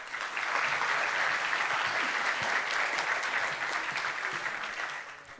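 A conference audience at a talk on SNCF Connect's chatbot breaks into dense, sustained applause, loud and steady from start to finish with no talking over it, tapering slightly at the very end.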